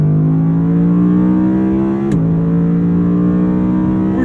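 An Audi R8 with its V10 engine revs hard and loud from inside the cabin, a steady high-pitched howl that rises slightly, dips sharply at a quick shift, then carries on strongly, with no voices.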